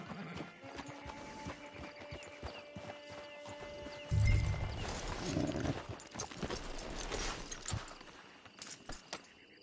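Steady clip-clop of horse hooves in a video game at a walking pace, fairly close, with a brief whinny and some rustling ambience around it.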